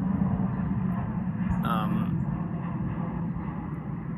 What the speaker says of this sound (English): I still got the planes overhead